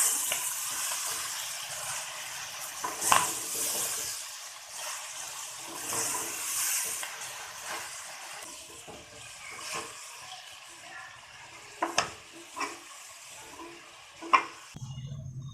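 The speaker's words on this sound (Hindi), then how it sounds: "मेथी डाल के सब मिक्स कर लेंगे।" Potato, dill and fenugreek sabzi is stirred in a pan, with a soft sizzle under sharp spatula scrapes and knocks against the metal, loud and close, some spaced several seconds apart.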